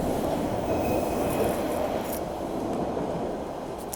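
Rail cars of the Ashmont A train roll past in a steady, fairly loud rumble, with thin high wheel squeals flaring briefly over the roar before it begins to thin out; no one speaks.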